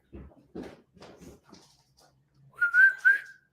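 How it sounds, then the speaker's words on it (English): A person whistles a short two-note call near the end, clear and fairly loud, after a stretch of speech and quiet, as if calling a dog outdoors. "All I have to do is whistle when he comes running."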